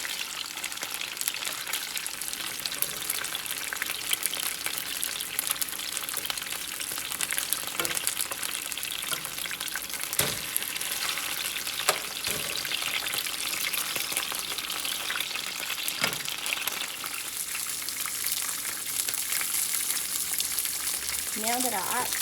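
Oxtails sizzle steadily in hot grease in a pan for a Southern smothered oxtail dish, a dense continuous crackle with occasional clinks and turning sounds, and a brief voice near the end.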